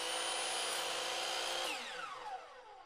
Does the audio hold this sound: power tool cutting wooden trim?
yes